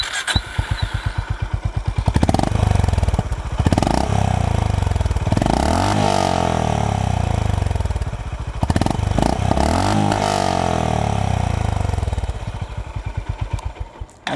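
Honda CB350 RS motorcycle on its stock exhaust, heard close and loud: a throaty single-cylinder idle thumping in rhythm, broken by several sharp revs that climb and fall back to idle, with no talking.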